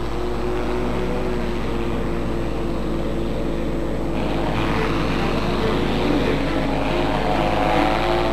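A light aircraft heading out on a flight over Everest, its steady engine and propeller drone filling the scene at a constant close level, with talking over it.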